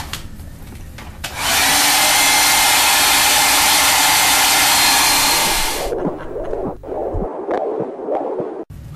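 A hair dryer runs close and loud for several seconds, drying a painting on an easel, a steady whooshing roar that stops abruptly, followed by quieter handling noises.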